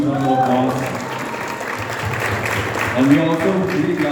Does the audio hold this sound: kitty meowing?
no